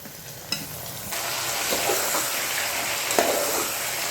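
Carrots, potatoes and tomatoes fry in a pan with a steady sizzle and occasional stirring clinks, close and moderately loud, no talk.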